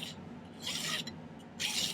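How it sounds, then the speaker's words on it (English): A file rasping a flat end onto a piece of flattened 10 gauge sterling silver stock, heard as two distinct short grating strokes, close and clear, over a quiet background hum. "let's go ahead and file a flat end on it."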